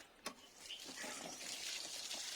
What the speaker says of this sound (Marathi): आता मी याच्यावरती टाकते ते पाणी